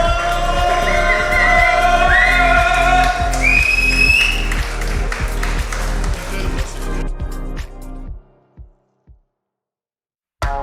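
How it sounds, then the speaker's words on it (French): An audience applauds and cheers at an airsoft competition, with loud sustained clapping, whistles and crowd noise over a pounding rhythmic music beat, dropping off abruptly near the end into near silence. "Si vous pouvez applaudir encore une fois, s'il vous plaît."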